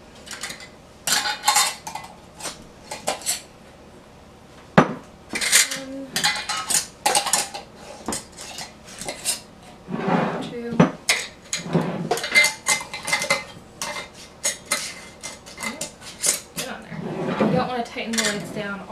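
Lids go onto glass canning jars filled with carrots and are screwed down, with repeated metallic clinks, scrapes and twisting rattles in bursts, and a few brief spoken words between them.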